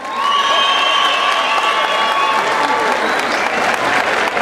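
Sustained crowd applause at a rancho tournament in Tamazulapan, steady and loud throughout, with scattered cheering mixed into the clapping.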